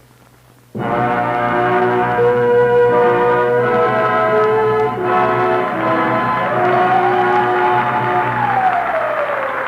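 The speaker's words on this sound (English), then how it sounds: "Whenever you hear the siren and bell, think of Texaco." A loud, sustained horn-like siren blares continuously with a ringing bell layered in, Texaco's radio sponsor signal, steady and dense for several seconds after an abrupt start.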